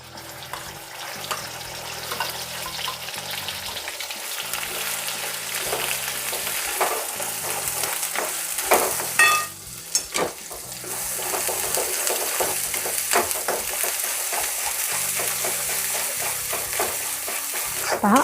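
Ground spice paste frying in hot oil for a Bombay duck and lima bean curry, a continuous close sizzle with repeated stirring scrapes and clinks, steady and fairly loud, with no talk.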